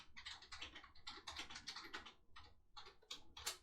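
Quick, uneven bursts of typing on a computer keyboard, close and fairly quiet, with clustered keystrokes and brief pauses, no voices.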